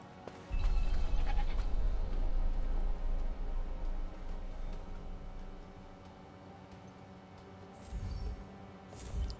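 Sheep bleat in the video game Forspoken over a steady, loud game backdrop with low rumbling music, the calls blending into the mix across several seconds.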